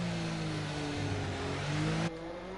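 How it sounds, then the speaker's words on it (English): F1 race cars heading out onto the track in the F1 2019 game, a steady high engine drone with sustained tonal whine that cuts off abruptly near the end, with no voices. "As we can already hear a few cars going out"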